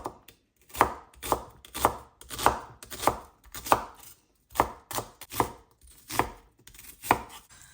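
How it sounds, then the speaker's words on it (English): An onion being finely chopped with a knife on a board, about a dozen crisp, evenly spaced chops in a quick steady rhythm, close and clear with no talking. "I'm going to finely chop it."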